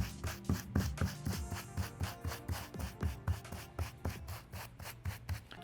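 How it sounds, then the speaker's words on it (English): Soft bristle brush scrubbing dirty sneaker laces from Air Jordan 1 UNC Reimagined shoes, heard as close, rhythmic back-and-forth bristle strokes in a steady rapid cadence with no talk. "I'm gonna move over to our soft bristle brush and just get an extra scrubbing"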